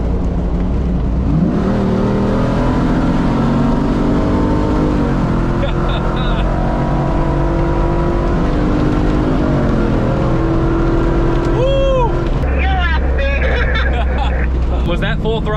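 A Hemi-powered Jeep Gladiator accelerates hard in a roll race, a loud steady engine roar building and holding throughout, with voices chattering over it and a few sharp squeaks near the end.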